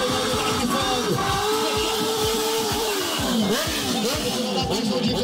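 A Honda CBR650 motorcycle at a bike meet in Bertioga, engine revving and rising in pitch with repeated throttle blips, loud and close over crowd noise.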